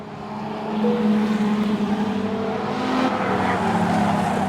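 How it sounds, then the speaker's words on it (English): Speedway race cars at a 47-lap memorial race roar around a dirt track, with a loud sustained engine drone rising and falling as the cars pass. "Jake Clark running a beautiful race out here."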